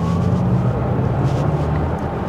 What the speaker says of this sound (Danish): når jeg sætter den i dynamic, så får du mere motorlyd, eller højtalerlyd, kunstigt genereret lyd.